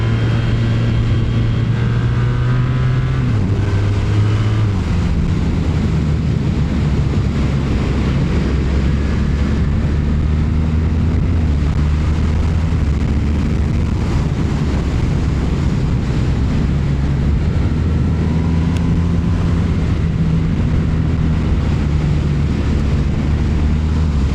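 A BMW R1300R boxer-engined motorcycle on the move, a steady low engine drone whose pitch shifts with the throttle, heavily blended with constant wind buffeting on the microphone.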